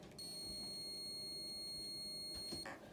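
Multimeter continuity check on a 40 amp Bussmann fuse from a 2013 Tesla Model S DC-DC converter: one steady high-pitched electronic beep lasting about two and a half seconds, then a brief click as it stops.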